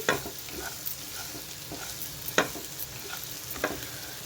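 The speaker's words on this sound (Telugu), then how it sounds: "ఇవన్నీ చక్కగా అంతా కలిసేలాగా కలుపుకోవాలి" Chopped cowpeas being stirred together in a pan for a curry, a soft steady sizzle with several brisk scraping strokes of a spoon, close and without speech.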